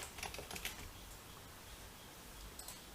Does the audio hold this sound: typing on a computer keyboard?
yes